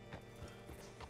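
Horse hooves clip-clopping in Red Dead Redemption 2, a steady run of soft hoof falls about every quarter second, close and fairly quiet, with no one speaking.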